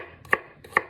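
Garlic chopped with a knife on a cutting board: two crisp, close blade strikes about half a second apart, each with a short thud, alone with no talking.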